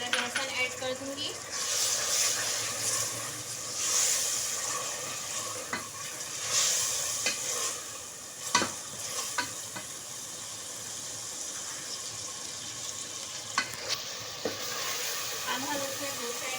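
Steady sizzling and hissing from ginger garlic paste frying with browned onions in a pot, with stirring scrapes and occasional clinks of a utensil against the pot.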